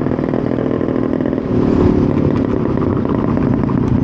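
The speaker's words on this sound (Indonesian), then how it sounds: "di depan ini ada Vespa ini, komunitas Vespa ini" Vespa scooters ride past on a road, their two-stroke engines putting out a loud, steady buzzing drone that swells briefly as they pass close by.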